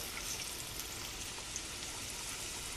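Soft, constant sizzling and crackling of trout frying in a pan, fairly quiet and steady with no voices.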